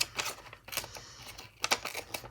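Small scissors snip through paper in a run of quick, crisp cuts, close and fairly quiet.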